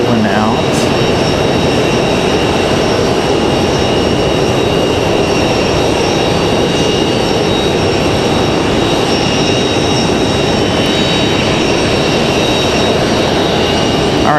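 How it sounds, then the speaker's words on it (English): A United Embraer E175 jet rolling out after landing at Raleigh-Durham airport, heard as a loud, sustained broadband engine roar with high whining tones, steady throughout under a constant hiss. "Got a United E175 rolling out."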